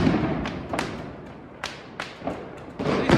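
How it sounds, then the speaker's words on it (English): Fireworks set off by local people near a lake during Chinese New Year crack and thump in irregular bursts, several sharp bangs sounding at a distance with short gaps between. "this is just local people buying fireworks and shooting them off like mad"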